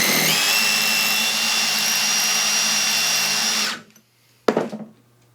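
A power drill fitted with a cheap bit drills into cinder block, a loud, steady high-pitched whine with grinding for several seconds before spinning down, then a brief second burst of the motor.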